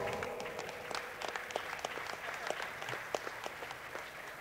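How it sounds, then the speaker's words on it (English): At a Halo esports tournament, an audience claps for the team that just won the first game, a quiet, steady patter of applause with crowd murmur underneath. "Give him a round of applause"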